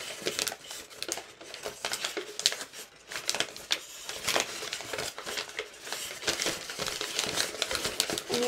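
Paper crinkles and crisp creasing sounds while folding an origami wasp by hand, close and steady with irregular rustles and soft taps throughout.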